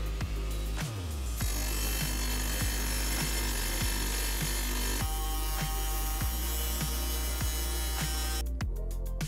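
A Sidamo DIAMINIPRO180 diamond wet tile saw cuts a skirting tile at an outside angle, a steady loud motor drone with a repeating ticking rhythm running through it, close and continuous without talk.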